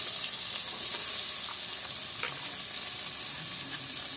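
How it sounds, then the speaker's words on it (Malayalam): Chopped onions fry in oil in a pan, giving a soft, even, continuous sizzle with a few faint stirring ticks, heard alone and at low level. "ഉള്ളി അരിഞ്ഞിട്ട് കൊടുത്തിട്ടുണ്ട്."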